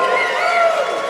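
A large concert-hall crowd of fans at a Rock & Roll Hall of Fame event cheering, a loud, sustained roar of voices and whoops, dense and continuous.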